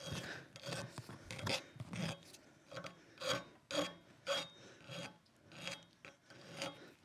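A hand file takes burrs off a metal bicycle stem or fork part in a bike shop to flatten it: quiet, rhythmic rasping strokes, about a dozen, evenly spaced and close by, with no talking.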